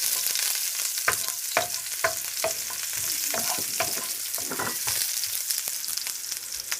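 Already-boiled beans and carrot fry lightly in oil tempered with onion, curry leaves and mustard seeds, a continuous sizzle punctuated by repeated scraping and stirring strokes in the pan, close and clear.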